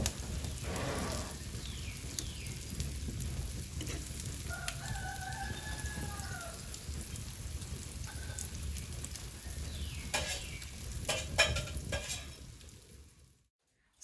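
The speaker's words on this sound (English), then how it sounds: "We need a good bit of grease in the frying pan. And we're gonna set them in there and let them fry." Coated cucumbers fry in a good amount of grease in a frying pan over an 18th-century cooking fire, giving a steady, close, broadband sizzling hiss. A faint bird call rises briefly in the background before the sound cuts off.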